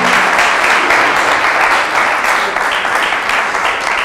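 Congregation in church applauding and cheering loudly, a dense, continuous crowd of clapping with voices mixed in, holding steady throughout.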